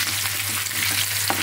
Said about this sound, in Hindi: हल्का सा हम फ्राई करेंगे